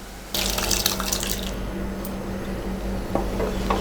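Cooked lentils (dal) splash as they are poured into spinach kootu in a pot, a short wet gush near the start that fades to soft bubbling and an occasional clink.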